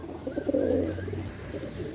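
Standing breed pigeons being sold, with soft low cooing close by, a few throaty coos over a faint background hiss and no talking.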